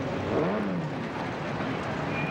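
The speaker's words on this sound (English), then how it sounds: "That's the sounds of the Street Rod Show." Street rod cars cruise up and down a city street at night during a Street Rod Show in Oklahoma City, engines rumbling and revving as they pass at moderate distance.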